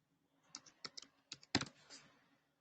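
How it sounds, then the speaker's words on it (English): Typing on a computer keyboard in a quiet office setting: a short burst of separate key clicks followed by a quick louder cluster of strokes, close and alone with no voices. "And type the word cancel."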